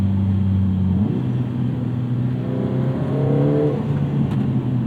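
Lotus Emira with a turbocharged Mercedes four-cylinder engine switched into track mode, a loud steady engine drone close by that steps up in pitch partway through and climbs further, with no talking.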